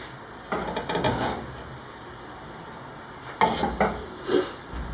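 White beans in sauce stirred in a pot over the heat, a few short bursts of spoon scraping and clinking against the pot, close up with quiet pauses between.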